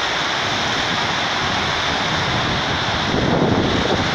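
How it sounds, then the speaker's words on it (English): White water roaring over Kootenai River Falls below a swinging bridge, a loud, steady broadband rush that swells slightly near the end, with no talk. "All the white water."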